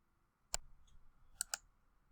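Computer mouse clicks on a quiet desk: one sharp click, then a quick pair of clicks a second later, close and crisp against near silence.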